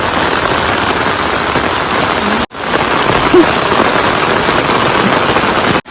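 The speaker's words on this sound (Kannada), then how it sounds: "ಈಗ ಜೋರು ಮಳೆ ಬರ್ತಾ ಇದೆ" Heavy rain pours down in a steady, loud, dense hiss of drops on surfaces, continuous apart from a brief cut midway, with no talking.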